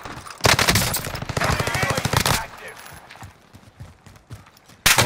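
Call of Duty Vanguard Warzone on Rebirth Island, with an LC10 submachine gun. Loud rapid automatic fire rattles in sustained bursts, followed by quieter scattered shots and a final sharp burst at the end.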